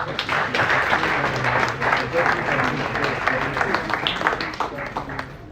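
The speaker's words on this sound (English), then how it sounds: "Can we clap for her?" A workplace-safety seminar audience gives a round of applause, continuous close clapping from many hands with faint crowd murmur and voices underneath.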